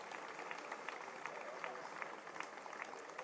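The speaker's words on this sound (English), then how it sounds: "Let's give them one more round of applause." A crowd at a Martin Luther King Jr. Day celebration on a university campus applauds elected officials, faint steady clapping from many hands that sounds distant and continues throughout.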